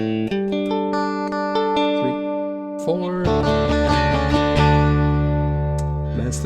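Electric guitar on a clean setting strumming a quick 16th-note chord cluster, bright ringing chords played up close, with a brief spoken count near the start.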